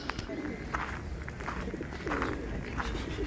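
Pigeons by a lake in Stavanger, Norway, with soft cooing and bird calls mixed into busy outdoor noise, near and fairly steady, alongside light footsteps and some background voices.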